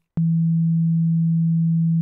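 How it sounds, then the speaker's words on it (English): A pure, steady low-pitched sine tone sounds alone for about two seconds, starting and stopping abruptly with small clicks at each end. "There's the, the mathematical formula for a sine wave"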